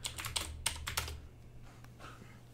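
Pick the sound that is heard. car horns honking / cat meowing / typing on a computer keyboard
typing on a computer keyboard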